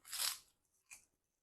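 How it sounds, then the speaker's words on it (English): Crunchy bites of sour cream and onion pork rinds, one loud close crunch followed by a second shorter one about a second later, with quiet between. "let's try these sour cream and onion pork rinds"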